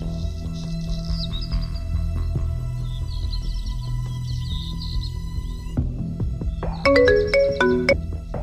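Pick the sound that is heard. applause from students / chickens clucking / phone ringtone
phone ringtone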